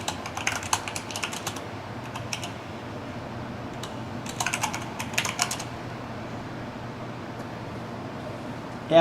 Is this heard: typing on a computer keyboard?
yes